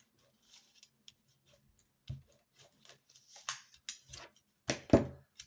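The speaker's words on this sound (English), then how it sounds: "I'm going to just cut all of that down really firmly now." Scissors cutting firmly through paper on a wobbly table, scattered crisp snips that grow louder and more frequent toward the end, close and with no voices.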